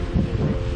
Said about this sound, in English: Pretty windy and getting rough out here tonight.